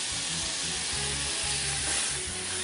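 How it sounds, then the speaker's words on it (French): Shallots and small lardons fry in butter in a saucepan over low heat, giving a dense, even, close sizzle that holds steady and loud throughout with no pauses. "Je vais maintenant ajouter les petits lardons. Et je continue la cuisson pendant encore 2 minutes."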